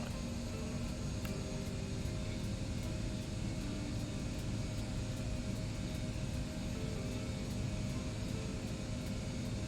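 An Embraer E175 airliner taxis in the Prepar3D v5.3 flight simulator at Bob Hope Burbank airport. Its engines give a steady, faint, even drone with an airy hiss, constant throughout.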